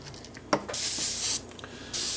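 Short bursts of spray-paint hissing onto an RC car body shell, two longer sprays separated by a pause, with light handling noises in between, close by.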